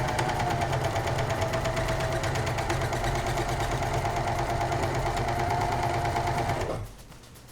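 Janome 1050DC / 7933D sewing machine stitching elastic onto stretched fabric for a carnival skirt, a fast, even mechanical whirr with rapid rhythmic needle ticks running steadily for nearly seven seconds, then stopping.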